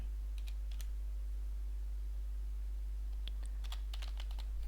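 Typing on a computer keyboard while setting up a software project, scattered light key clicks in two short bursts over a constant low electrical hum.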